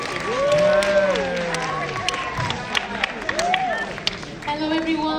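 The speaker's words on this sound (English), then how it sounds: "so let's give her a big round of applause." Audience applause with scattered cheers and whoops for a senior singer from the Council Center of Senior Citizens at a talent contest, steady clapping with voices calling out over it.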